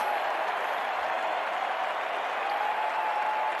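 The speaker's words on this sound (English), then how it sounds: "you have to give them an applause" Steady applause from a crowd, dense and continuous clapping at moderate distance throughout, with no pauses.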